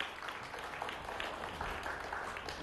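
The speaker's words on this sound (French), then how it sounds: "alors applaudissements pour le marié" Audience applause for the groom on a French television makeover show, a steady, continuous patter of clapping at moderate level with no talk over it.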